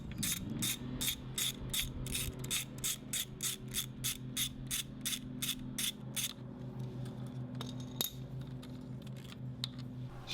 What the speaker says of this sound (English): Now we're going to remove the servo mounting screw using a Torx T30 bit.